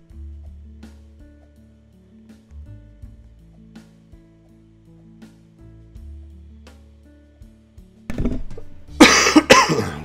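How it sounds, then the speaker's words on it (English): A cough bursts out near the end, loud and close, after a stretch of quiet game music and soft clicks. "I unmuted it and then coughed"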